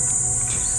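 Insects chirp in a steady, shrill, continuous drone at a riverside campsite. The sound is brief and unbroken, with no voices.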